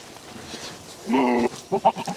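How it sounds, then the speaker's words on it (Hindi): A young female goat kid on a farm gives a clear, close bleat, followed by a few shorter, wavering bleats, over quiet outdoor background. "उसी बकरे की बच्ची है ये।"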